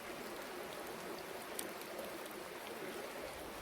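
Pouring rain gives a steady, soft, even hiss of falling water outdoors, with one faint brief tap partway through and no voices.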